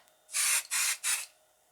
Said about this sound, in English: Give a light spray of temporary adhesive